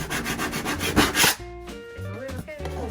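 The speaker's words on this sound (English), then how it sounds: "So you just take a putty knife," A putty knife scrapes over raised screw bumps on a travel trailer wall, several quick rough rasping strokes in the first second and a half, followed by speech.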